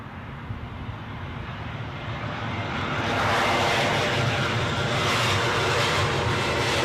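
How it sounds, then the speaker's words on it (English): An Airbus A320 airliner arrives at London Heathrow, its jet roar building gradually from a distant rumble to a loud, broad sustained rush over several seconds. "A320 inbound anyway, having departed 1 hour 15 minutes ago."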